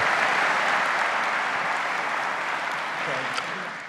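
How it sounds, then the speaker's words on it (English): Conference audience applauding the morning-session panelists at an oil and gas exhibition opening, a dense, steady wash of clapping that holds evenly for several seconds and thins slightly at the end. "Let's give a nice round of applause for all our panelists here in the morning session"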